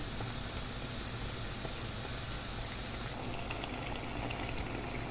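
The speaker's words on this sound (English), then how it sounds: "I'm steaming them." Prawns steam in a partly covered pot, a constant soft hiss and low bubbling rumble that stays even and faint for the whole stretch, with no speech.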